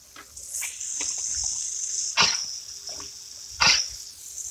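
An American Bully dog playing in water, with splashing bursts and snorting or breathing sounds over a steady hiss of running water.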